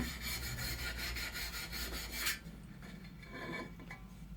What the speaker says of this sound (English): Take the old brass brush here